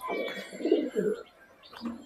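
A Kalanka Matras racing pigeon coos up close in soft, throaty bursts, two main phrases with a short pause between them.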